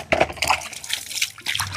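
Water poured from a bucket onto cattle fodder being mixed with dung, a splashing gush in short bursts over about two seconds, fairly close, with faint voices in the background.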